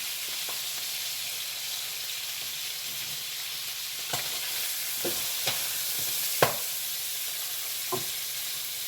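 Bell peppers fry in a pan under a constant soft sizzle. A few light utensil taps and stirring knocks are scattered through the sound.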